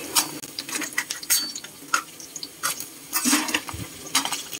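Live crabs dropped into a pan with garlic and onion, heard as irregular clattering knocks, scrapes and shell scrabbling against the metal over a light sizzle, close up and without speech.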